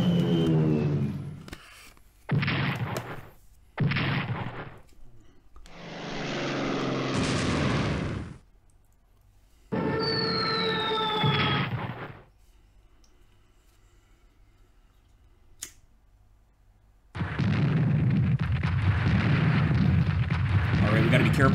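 Explosive booms and blasts from bombing and artillery in the strategy game Strategic Command, sounding in loud separate bursts with gaps of near-silence between them, while someone talks over some stretches.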